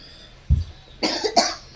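A couple of short coughs sound close by, one low thud-like cough followed by a rougher double cough a moment later.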